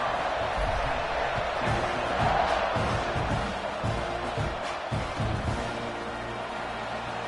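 Steady roar of a packed stadium crowd at a college football game between Colorado and Texas A&M, a dense, continuous wash of cheering that swells slightly mid-way and stays loud throughout, with no clear talking on top.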